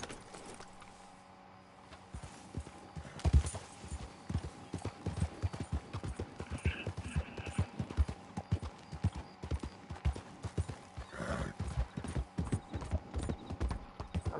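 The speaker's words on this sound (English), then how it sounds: "I'm riding a horse." Steady clip-clop of horse hooves at a trot in Red Dead Redemption 2, with faint jangling of tack and background ambience.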